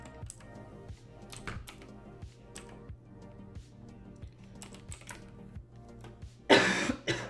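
Dry coughs from a person at a computer, a sharp burst near the end standing out over steady, quiet keyboard typing clicks that run throughout.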